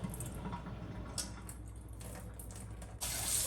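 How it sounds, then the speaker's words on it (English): Water swirled in a bowl while washing tomato seeds, soft sloshing and dribbling with a few brief splashes, then a brighter rush as the dirty water is poured out at the end; quiet and close, with no talking. "I'm just going to add water to this bowl, swirl it around, and repeat the process of dumping that dirty water out"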